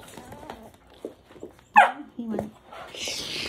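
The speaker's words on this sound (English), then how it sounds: "Shh, no barking." A puppy lets out one sharp, loud bark, with softer yips and whimpers around it, while a person talks quietly nearby indoors at night.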